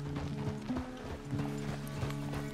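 Horse hooves clip-clop at a walking pace in Red Dead Redemption 2, a steady irregular clatter of hoofbeats close by with soft tack and harness sounds, moderately quiet and without talk.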